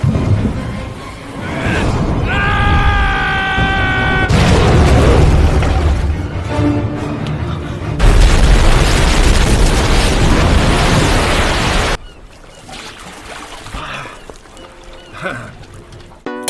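Homemade bombs exploding in the film 5 Headed Shark Attack: loud, sustained blasts and roaring bursts that give way to rumbling debris, then quieter aftermath with scattered sounds.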